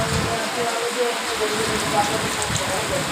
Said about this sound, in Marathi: एकदमच निघायचं आम्हाला पडतो पाऊस.